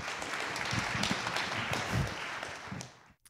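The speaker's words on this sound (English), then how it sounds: "Isn't that kind of an interesting sound, that kind of resonant clapping?" Resonant applause fills a building at the Minnesota State Fair, a dense, echoing wash of many hands clapping that holds steady and then cuts off abruptly at the end.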